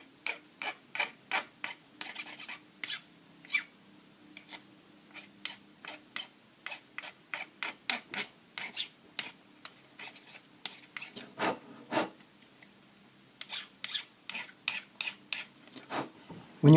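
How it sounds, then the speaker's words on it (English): Bastard file rasping over dried super glue, a long series of short, fairly quiet scraping strokes in a steady back-and-forth rhythm, with one brief pause before the strokes resume. "we can use our bastard file now"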